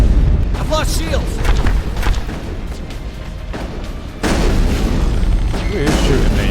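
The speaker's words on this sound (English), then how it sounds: "Who is shooting me?" Gunfire in the Mass Effect video game aimed at the player: heavy booming shots and thuds over a loud, dense game soundscape, with someone talking over the action.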